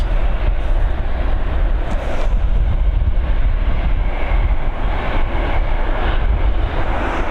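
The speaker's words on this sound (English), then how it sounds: "FR119, this Boeing 737 coming in from London Gatwick." Ryanair Boeing 737 landing on runway 28L at Dublin Airport in the evening, a steady loud jet roar with broadband rumble holding continuously throughout, no voices.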